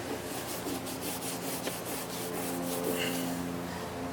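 A prep cloth soaked in cleaning solvent rubbed over a car body panel during rust repair, giving a quiet, continuous close-up swishing and rubbing with no breaks.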